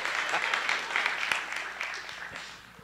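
An audience claps at a talk by an archdeacon, with a dense, steady patter of many hands that fills the whole stretch and slowly thins toward the end.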